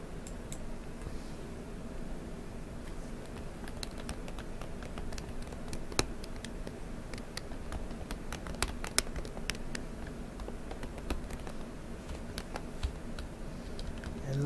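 Typing on a laptop keyboard indoors, sparse, irregular clicks and taps scattered over a low background hum, some keystrokes sharper and louder than others.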